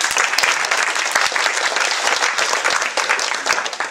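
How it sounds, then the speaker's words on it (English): An audience at a keynote talk in Moscow claps for a speaker, a brisk, close burst of many hands with individual sharp claps standing out over four seconds. "Let's give him a round of applause."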